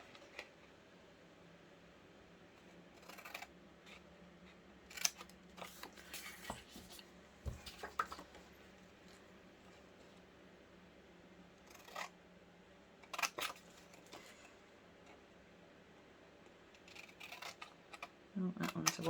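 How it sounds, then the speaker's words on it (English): Scissors snip out paper bunting pieces in short, quiet clusters of cuts separated by pauses, close up in a calm room, with a faint steady hum in the background. "If you're unsure with your cutting with scissors, you can of course use a trimmer if you find that easier"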